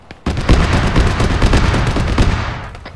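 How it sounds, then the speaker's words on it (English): Repeating 30mm autocannon fire in a military video game campaign, a loud, dense stream of rapid booming shots continuing for several seconds with no speech. "sounds like repeating 30mm to me"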